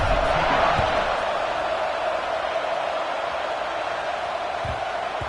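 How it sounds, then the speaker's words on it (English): A stadium crowd buzzes steadily in the CFB 26 college football video game, a loud, dense, continuous roar of many voices holding level throughout. "this crowd is buzzing after that last score"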